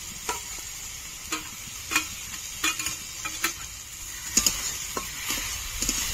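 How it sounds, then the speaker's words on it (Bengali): Spoon stirs spices, turmeric, water and tomato puree in a pan for a rohu fish curry, giving intermittent scraping strokes over a soft steady sizzle, close and moderate in level, with no talking. "আবারও কিছুক্ষণ নেড়ে নেব।"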